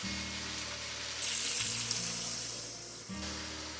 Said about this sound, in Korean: 고추 기름이 나오면 물을 자작하게 넣고 센 불로 끓여주세요